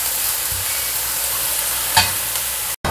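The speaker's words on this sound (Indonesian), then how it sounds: "Nah, ini ditumis wangi, nanti itu masuk talesnya." Fresh wet anchovies sautéing in a hot pan: a continuous loud sizzle with a brief scrape of stirring partway through, ending in a sudden cut, and no speech.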